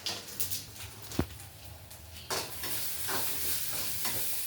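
Bitter gourd fries in a small pan, a soft, fairly quiet sizzle with a few faint scraping touches and one brief knock.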